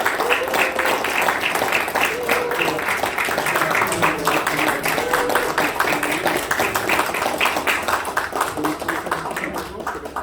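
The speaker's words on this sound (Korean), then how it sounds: "박수 한번 주십시오" Audience applause at a Korean business club's officer inauguration ceremony as flower bouquets are presented, sustained dense clapping with a voice talking over it.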